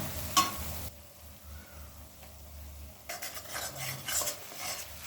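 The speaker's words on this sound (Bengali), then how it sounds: "লঙ্কা বাটাটা দিয়ে তিরিশ থেকে চল্লিশ সেকেন্ড নাড়াচাড়া করব" Green and ripe chilli paste added to spice masala is stirred in a hot pan, with soft sizzling and frying and occasional scrapes and clinks of a spatula, fairly quiet with no talking.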